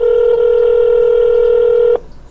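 A single steady telephone keypad tone sounds loudly while the number 1 is pressed on an automated phone menu, holding for about two seconds before cutting off abruptly.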